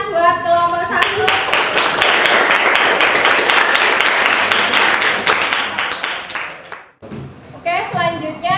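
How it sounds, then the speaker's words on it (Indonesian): A classroom group claps for presenting group 1, steady applause lasting several seconds before stopping abruptly, with a voice speaking just before and after. "kasih tepuk tangan buat kelompok 1"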